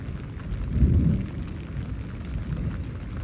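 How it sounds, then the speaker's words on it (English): Rain falling during a thunderstorm in Houston, Texas, with a steady low rumble and a swell of heavier rain or distant thunder near the start, then an even wash of downpour. "So today's forecast is that it's raining."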